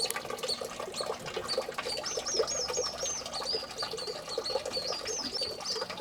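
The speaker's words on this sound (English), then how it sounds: "You can hear the noise of the birds." Continuous high-pitched chirping and twittering from several birds, fairly close and steady throughout, over a busy background with no talking.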